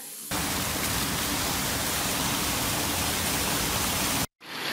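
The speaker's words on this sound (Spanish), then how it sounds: "Y sigue lloviendo" Heavy rain pours during a storm in central-southern Chile, a loud, dense, unbroken roar that cuts out abruptly near the end.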